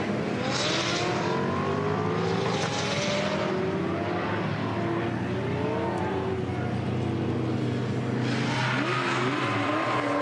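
Drift cars battle in tandem at the Nürburgring, engines screaming and revving continuously at close range with rising and falling pitch as they slide through a corner.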